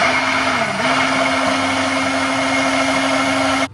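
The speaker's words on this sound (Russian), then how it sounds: "Устанавливаем блендер вот таким образом и на маленькой скорости начинаем перебивать." An immersion blender runs at low speed mixing aioli sauce, a loud steady motor whine with a brief dip in pitch near the start before it settles and then cuts off at the end.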